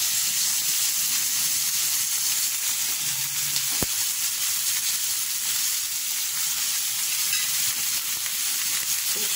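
Bitter gourd (ampalaya) frying in a pan gives a steady, close sizzle and hiss throughout, with one sharp tap partway through.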